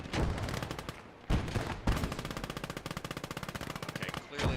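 Bursts of machine gun fire crackle loud and close in a Gates of Hell battle, long rattling volleys broken by brief pauses, the shots stacking into rapid rhythmic strings with no voices over them.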